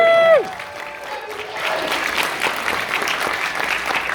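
An audience claps for Nicole, a moderate spread of applause rising after a brief voice at the start and continuing steadily to the end, heard from within the room.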